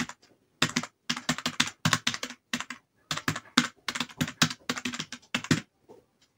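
A computer keyboard tapped out in quick bursts of keystrokes with short pauses between, close and clear with no talking, as a channel name is entered for a YouTube subscribe button animation.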